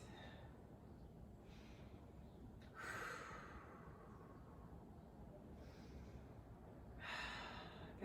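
Slow, deep breaths during a full-body yoga stretch, with two soft, airy breathing swells over a low steady background hum.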